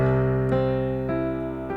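A sustained major chord with a flat sixth on top rings out with a bright tone, restruck softly twice as it lingers; close, alone, with no talking.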